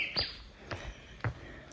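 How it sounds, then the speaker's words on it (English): Faint, quiet outdoor ambience with a few short, sharp chirps spaced apart, distant and soft. "Hear the birds chirping."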